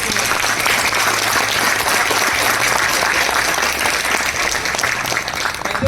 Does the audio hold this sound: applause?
yes